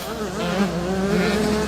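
Engines of 85cc motocross bikes racing in a junior 9-11 class moto, a steady buzzing engine drone with rising and falling pitch throughout, under an announcer's commentary.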